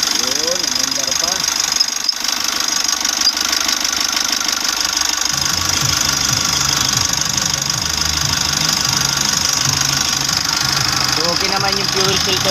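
Mitsubishi Euro 4 engine running just after a fuel filter replacement, idling loud and close with a steady knocking rhythm throughout.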